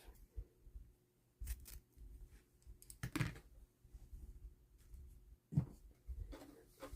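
Scissors snipping through sheer ribbon at a craft table, a few quick crisp cuts and rustles with a louder snip near the middle and another near the end, close and quiet.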